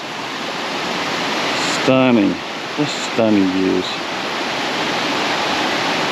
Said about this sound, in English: What a great series of waterfalls, just beautiful.